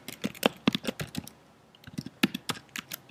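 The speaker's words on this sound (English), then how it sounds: "Terrible typing." Typing on a computer keyboard during a coding session, a burst of quick, close key clicks, a brief pause, then another uneven run of keystrokes.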